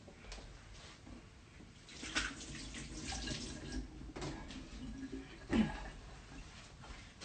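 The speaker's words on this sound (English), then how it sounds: "I'm gonna quickly wash my hands." A tap runs softly at a sink while someone washes their hands mid-cooking. The water is faint and steady, with a few louder splashes along the way.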